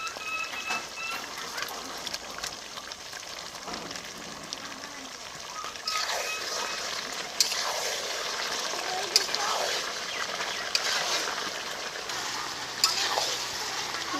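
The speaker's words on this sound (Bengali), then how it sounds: "এখন ভেজে নেওয়া আলুগুলো দিয়ে দিচ্ছি" Fried potatoes stirred into turkey meat cooking in oil, a steady sizzle with scraping stirs and occasional clacks, close and moderately loud.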